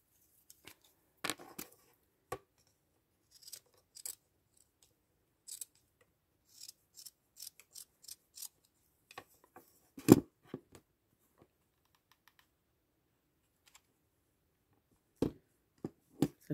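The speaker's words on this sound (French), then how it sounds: "tout ce qui dépasse, je vais le couper, forcément." Small scissors snip away excess fabric around an embroidery hoop, giving short, sparse, close-up cuts separated by long quiet gaps.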